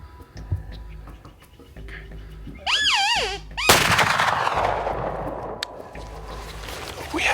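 A hunting rifle fires at a bull elk during a New Mexico hunt, one loud sharp close report after a rising, wavering bugle-like call, followed by a long fading echo across open country.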